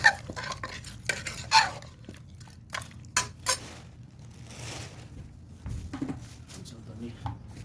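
Goat head curry being stirred in a pot, with irregular scraping and clattering strokes of a spoon against metal, close up, while someone talks over it.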